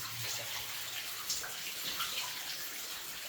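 Water sloshes and splashes as someone wades through knee-deep flooding in an 1890s underground copper mine strewn with debris, with irregular close splashes and trickles echoing in the enclosed space.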